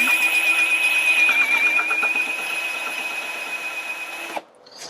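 A drill fitted with a Forstner bit bores into wood with a steady high whine and grinding chatter, running continuously at close range before cutting off abruptly near the end.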